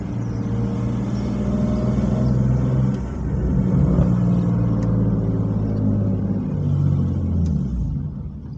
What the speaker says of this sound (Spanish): Uf, vaya petardeo, chaval. Vaya petardeo,